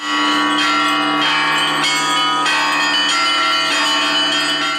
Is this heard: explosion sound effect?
no